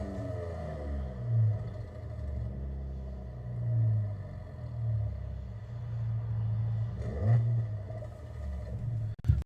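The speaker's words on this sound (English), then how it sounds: "the sound of the exhaust actually sounds pretty good on the RT" A Dodge Charger R/T exhaust idles with a low burbling rumble, swelling through several moderate revs and settling back between them, close and alone without voices, ending abruptly with a brief clunk.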